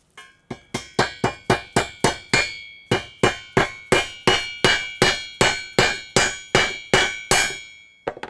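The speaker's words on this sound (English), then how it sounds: "So let's hammer this in." Metal hammer blows ring out in a steady series as parts are driven into a mini bike swing arm on a bench, about twenty sharp, loud strikes with a slight pause partway through.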